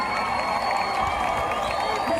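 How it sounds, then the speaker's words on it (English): An overflow crowd at a Bernie Sanders and AOC political rally cheers, whoops and claps in a steady, dense roar that holds at full strength throughout, with no single voice standing out. "overflow crowd for the Bernie AOC rally"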